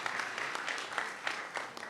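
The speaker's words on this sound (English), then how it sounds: "Yes, we can give them a round of applause." Brief, light applause from tables of guests at an awards lunch, soft and a little scattered, with a few sharper claps standing out.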